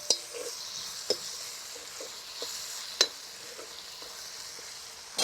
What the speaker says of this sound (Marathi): आता बारीक चिरून घेतलेला टमॅटो टाकून घेऊ टमॅटो आपल्याला थोडं मऊ होईपर्यंत परतून घ्यायचं आहे